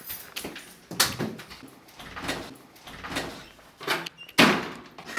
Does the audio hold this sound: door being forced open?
yes